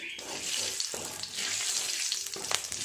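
Whole cumin, dried chilies, bay leaf, cinnamon, cloves and cardamom fry in oil, giving a close hissing sizzle with some clatter, continuous for a few seconds.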